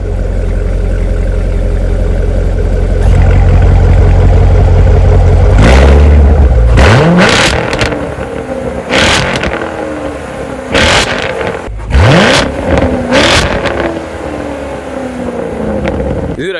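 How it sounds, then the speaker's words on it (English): A stock C7 Corvette V8 cranks and fires with a loud roar, settles into a rumbling idle, then gets several sharp, close throttle blips that each climb and fall away. "C7 Corvette, start up."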